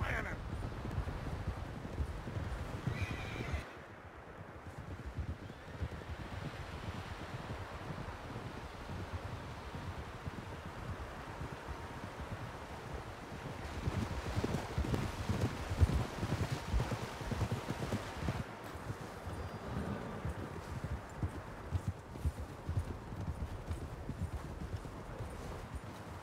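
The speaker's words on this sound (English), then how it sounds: "Horses, quite a few of them." Horse hooves clip-clop steadily in Red Dead Redemption 2, several horses near a lakeside camp, under a constant wash of wind and water, with a brief lull early on and the footfalls growing busier midway.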